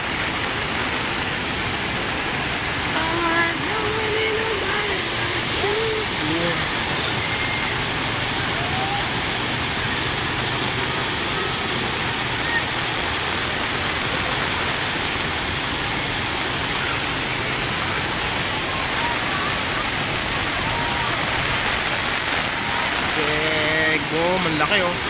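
Steady, roaring wash of surf crashing continuously, loud and unbroken, with faint voices talking underneath.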